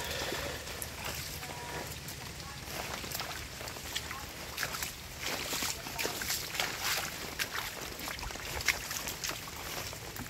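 Motorboat engine running on the open sea, a steady broadband drone mixed with water wash and wind, continuous and close throughout, with no clear speech over it.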